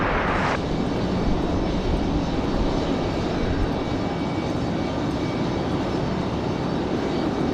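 An airplane landing on runway 5 left at Raleigh Durham airport makes a steady, moderately distant engine roar that holds evenly for the whole stretch, with no talk over it.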